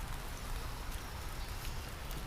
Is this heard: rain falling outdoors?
yes